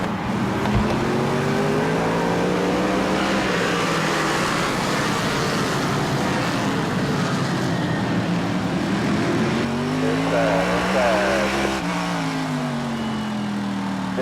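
Race cars rev and accelerate together at a Bowman Gray Stadium race start, a loud, continuous engine roar with rising pitch sweeps as the pack pulls away, steady and near throughout.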